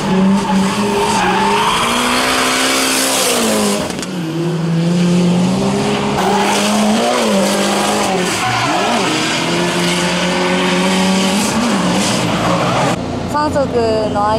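A D1 Lights drift car making a run in 4th and 3rd gear, its engine wailing and shifting pitch with continuous tire squeal and skidding, loud and close throughout, with brief talk near the end.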